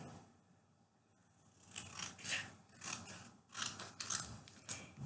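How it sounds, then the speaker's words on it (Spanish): Scissors cutting a paper rectangle in half, a few crisp close snips and rustles, faint, arriving in quick bursts after a brief quiet start, with no talk. "Tenemos el rectángulo y lo cortamos al medio también."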